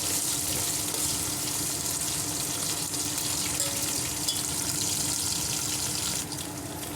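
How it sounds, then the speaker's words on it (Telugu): Half a spoon of black peppercorns fry in a pan for sambar rice, giving a steady, dense sizzle that holds at an even level throughout with no talk. "ఒక హాఫ్ స్పూన్ మిరియాలు బాగా ఫ్రై చేసుకుందాము"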